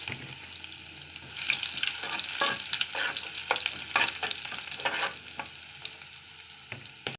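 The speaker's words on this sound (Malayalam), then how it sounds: "ചൂടായ എണ്ണയിലേക്ക് നമുക്ക് കടുക് ഇട്ട് കൊടുക്കാം" Mustard seeds spluttering and crackling in hot oil for a Malayalam sprouted green gram thoran, a dense sizzle with sharp popping bursts that build after the first second and carry on close and steady.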